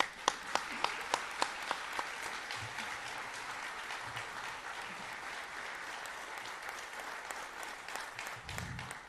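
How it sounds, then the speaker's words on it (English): Sustained audience applause at a memorial tribute to former Florida governor Bob Graham, with a few sharp individual claps standing out at the start before settling into a steady, moderately distant wash of clapping. "Let's clap for that"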